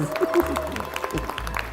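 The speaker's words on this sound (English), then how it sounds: "A big round of applause." Audience at a dinosaur-themed comedy show applauding in brief, scattered claps mixed with voices.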